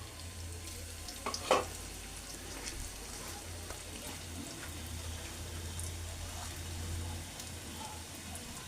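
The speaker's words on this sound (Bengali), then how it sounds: "এই যে ভাজতে চলে আসছি পাতাকপির পেঁয়াজু" Cabbage and lentil fritters spiced with turmeric, salt and chili frying in oil, a quiet continuous bubbling sizzle with a low hum underneath and one brief clink, steady and fairly faint throughout.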